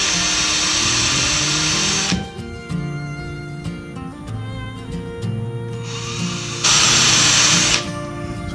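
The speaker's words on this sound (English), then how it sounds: "I'm pre-drilling holes where my screws are going to go" Power drill pre-drilling screw holes in clamped wood pieces for a custom bait board, with two loud sustained whining bursts at the start and end and quieter workshop handling and tapping in between.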